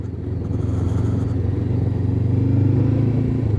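A Honda NX500 motorcycle engine hums steadily and builds slightly as the bike accelerates on the road, a constant low drone heard from the saddle with wind noise and no talking.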